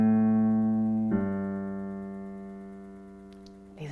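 Two sustained pure tones for ear training, the second starting about a whole step lower than the first, each steady and clear with no talking over them.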